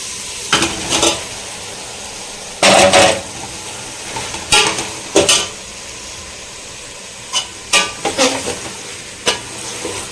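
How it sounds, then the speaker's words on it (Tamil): Chicken pieces being sautéed with softened tomatoes in a pan for a restaurant-style chicken gravy, with loud, repeated bursts of stirring and sizzling scrapes separated by quieter gaps. "தக்காளி போட்டு வதங்கிட்டதுக்கு அப்புறம் சிக்கன் வந்து சேர்த்துக்கலாம்."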